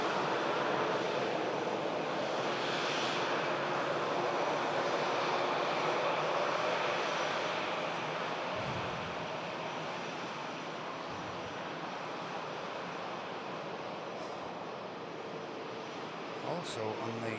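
Engines of an Emirates Airbus A380 at Manchester Airport as it prepares to taxi, a steady broad roar that stays loud, then eases slightly partway through, with talk over it.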